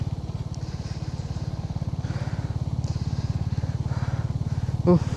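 A motorcycle on a rough mountain road in Arunachal, its engine thrumming steadily and close throughout with a brief knock near the end.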